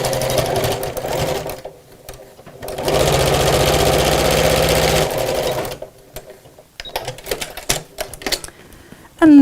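A sewing machine stitches straight across a squished seam on a messenger bag with a laminated side, running in a loud steady burst for a couple of seconds between quieter stops, with brief spoken remarks around it.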